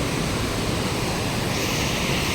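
Narmada water pours over the overflow gates of the Dantiwada dam, a steady, dense roaring rush that stays loud and unbroken throughout, with no voices.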